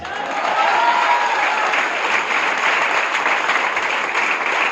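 Continuous applause from a crowd at a motivational speech, a thick, steady wash of clapping that stays loud and even throughout without pause.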